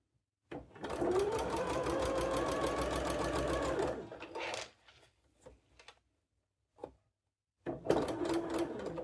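A sewing machine stitches a Christmas fabric pouch in one long steady whirring run lasting a few seconds, followed by small handling clicks and taps, then stitching resumes briefly at the end.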